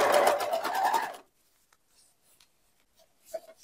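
An overlock sewing machine stitching a fabric bag strap whirs in a dense, rapid buzz for about a second, then stops, leaving near silence broken by a few faint handling clicks and rustles.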